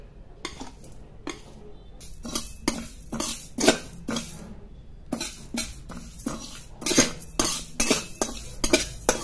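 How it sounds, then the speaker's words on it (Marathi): A metal spatula scraping and stirring flax seeds dry-roasting in a pan, irregular bursts of rattling strokes with brief pauses between. "त्याच्यामध्ये हे जे जवस आहे ते घालून घ्यायचे आणि ड्राय रोस्ट करून घ्यायचे"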